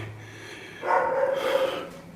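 A dog barks in a short burst of several rough, close barks and yips, loud against a quiet background with faint hum beforehand.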